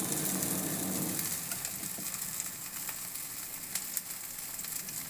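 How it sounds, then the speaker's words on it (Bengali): Cutlets roast in a pan with a little ghee, giving a steady close-up sizzle and hiss. The sizzle is louder at first, then settles into a softer, even crackle with faint occasional pops. "জাস্ট রোস্ট করে নিলাম, খুব সামান্য ঘি দিয়েছি।"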